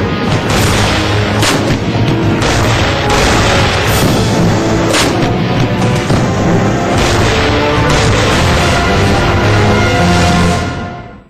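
Bofors artillery guns fire in a dense, loud barrage, with heavy booms and sharp blasts piling up continuously for about ten seconds before cutting off.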